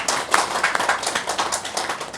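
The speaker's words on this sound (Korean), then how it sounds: "큰 박수 부탁드리겠습니다" A steady patter of hand clapping from a crowd at a Buddhist birthday celebration, moderately loud, continuing evenly throughout without voices.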